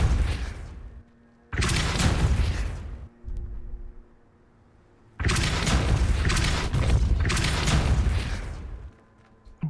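Depulso force spells strike in the video game Hogwarts Legacy, landing as two long, loud, booming whooshes separated by quieter gaps, with a short softer burst in between.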